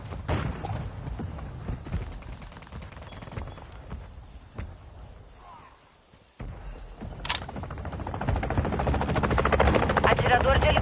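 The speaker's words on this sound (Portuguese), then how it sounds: "Atirador de helicóptero aliado em ação." An allied helicopter in the multiplayer video game Call of Duty Modern Warfare 2 makes a constant rotor whir under gunfire and battle noise. It eases off briefly, then comes back as a loud, steady roar.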